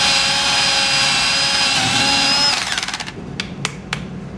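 A handheld power drill boring a 3/16 inch through hole in a workpiece for a three-legged stand, a loud steady whine that winds down and stops midway, followed by a few sharp clicks.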